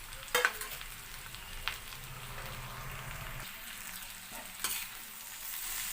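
Sliced onions tipped over okra in a pan for a dhaba-style fry set off a soft, steady sizzle with a couple of sharp clinks and stirring scrapes, faint and close, with no speech.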